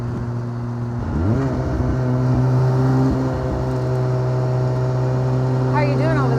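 A home-built Lotus 7 replica roadster powered by a 400 hp turbocharged RX7 rotary engine is driven, giving a steady buzzing drone that swells as it accelerates with rising pitch sweeps, loud and close, with no talking.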